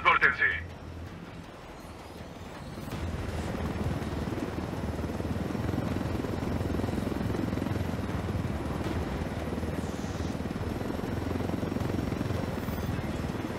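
A helicopter flies in the Ghost Recon Wildlands video game, a steady loud rotor and engine drone building after a short quiet start, with voices talking over it at times.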